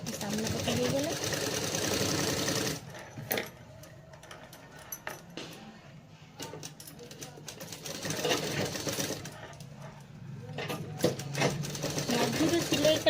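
Sewing machine stitching a blouse, its fast mechanical whir running in bursts and short stops with ticking handling sounds, while someone talks over it.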